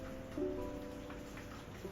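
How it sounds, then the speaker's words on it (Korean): Soft, steady rain patters on a surface, a faint, even hiss with no thunder or voices. "가만히 앉아 듣는 빗소리도 꽤나 좋다."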